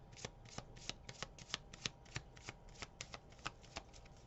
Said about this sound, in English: Sometimes it helps me to read the cards when I shuffle.